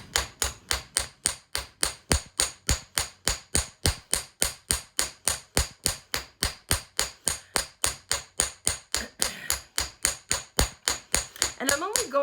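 Steady hammer blows flattening the wire end of a wire-wrapped beaded bangle, a rapid even series of sharp metallic taps, close and loud, continuing for the whole stretch with slight extra noise near the end.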